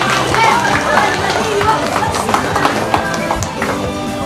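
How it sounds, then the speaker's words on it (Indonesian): An audience claps and cheers at a roller-skating event in Pekanbaru, Riau: dense, continuous applause with crowd noise that stays fairly loud and steady throughout. "Oke, beri tepukan yang meriah"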